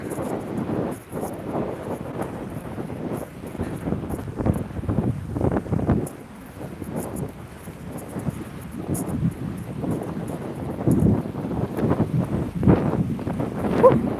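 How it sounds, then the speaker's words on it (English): Steady gusting wind buffets the microphone outdoors on a chilly walk, a continuous low rumble that swells and eases throughout with no speech. "We've got a bit of wind."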